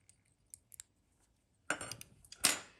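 Scissors snipping off material from a rusty fishing spinner lure, a few faint light clicks followed by two close, crisp metallic cuts.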